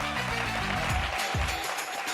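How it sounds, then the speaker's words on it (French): A studio audience at a French dating game show applauds to welcome a contestant, a continuous clapping wash blended with loud show music. "On accueille Mathieu avec des applaudissements bien nourris"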